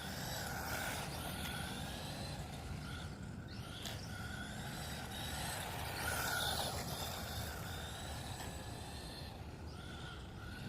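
A PX 9304E 4WD 1:18 off-road RC truck running outdoors at night, its electric motor whining and tires crunching over rough ground in a continuous close, steady roar for the whole stretch.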